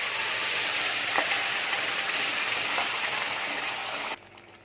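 Curry leaves and a pinch of asafoetida sizzle in hot oil for a hotel-style tomato chutney. A loud, dense, crackling fry hisses steadily up close, then drops off abruptly near the end.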